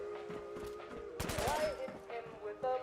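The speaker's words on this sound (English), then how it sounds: "what the fuck are you shooting at?" Video game gunfire in Fallout 4, a rapid burst of shots in the middle over a continuous music and ambience bed, with further scattered gameplay sounds after it.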